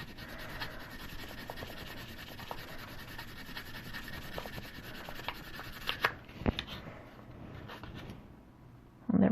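Wire-wrapped fleur de lis earrings are sanded by hand with 800 grit paper, a continuous soft rubbing and scratching close up, steady throughout with a few sharper clicks near the end.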